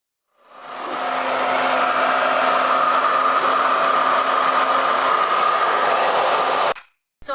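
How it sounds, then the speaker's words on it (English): A blow dryer on its cold setting aimed at an American Girl doll's freshly washed hair gives a loud, steady whooshing roar for about six seconds before cutting off abruptly. "I always take my blow dryer on the cold setting"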